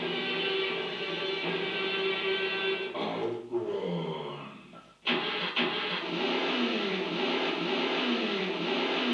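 A car engine in an Amiga racing video game starts and revs steadily, with a brief dip and restart midway, a continuous synthetic mid-pitched drone with wavering pitch and no talk over it.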